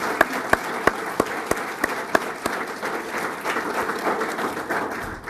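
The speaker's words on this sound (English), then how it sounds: "let's give her a big round of applause." A round of applause fills a staff luncheon room, with sharp individual claps standing out at first and then merging into steady, moderately loud clapping from a small crowd.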